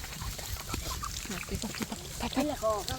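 Several ducks quack close by, a few short nasal calls getting louder toward the end, mixed with people talking.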